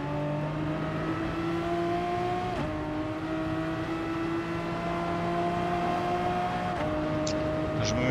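A race car engine held at full throttle in Gran Turismo Sport, a steady high whining drone with two brief dips as gears shift, loud and close with no talk.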